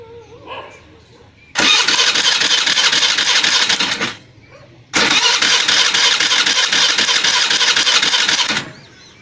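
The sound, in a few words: Hero Maestro scooter engine starting with key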